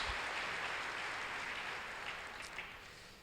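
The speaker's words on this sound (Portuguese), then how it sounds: "Você pode aplaudir o Senhor Jesus?" A church congregation applauding, steady dense clapping at a faint distant level, fading slightly toward the end.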